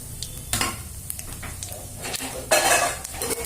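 Cumin seeds (jeera) hit a hot pan for a bitter gourd fry, crackling and sizzling with scattered clinks of utensil against pan, a louder burst of spitting oil near the end.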